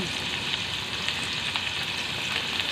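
Tomatoes sautéing in hot, spattering oil for an eggplant omelette, a dense continuous sizzle with crackling pops, close and fairly loud with no talking.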